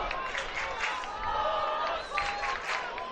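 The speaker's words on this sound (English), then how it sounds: "Crowd getting into it now, clapping their hands, trying to get Jeremy Profar on base any which way." A baseball crowd at a Japan–Netherlands semi-final claps together in a steady stadium-wide patter, with crowd murmur under it and a commentator talking throughout.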